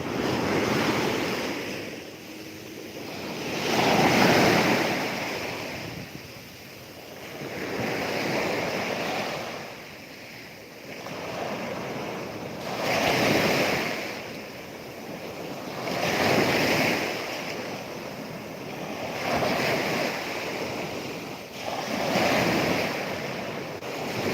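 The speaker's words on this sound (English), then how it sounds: "these waves will have me over if I go in there." Ocean waves rolling onto a beach at Pattaya, a steady surf with slow swells breaking every few seconds, roaring wash laced with wind buffeting the microphone, no voices heard.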